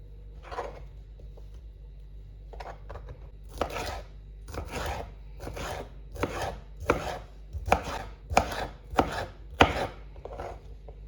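A knife cuts cabbage lengthwise on a board for a Korean-style salad, a run of about a dozen crisp chopping strokes that get quicker and louder toward the end, close and without speech.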